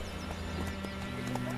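Roach the horse in The Witcher 3 game, clip-clop hooves and a neigh over a steady tonal game background, a voice talking over it.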